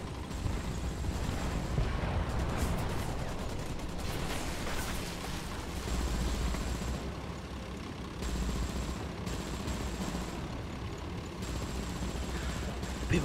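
Tank battle at the start of a War Thunder match with Japanese tier 1 tanks: a dense, continuous rumble of engines and scattered cannon and machine-gun fire, fairly distant and low in level.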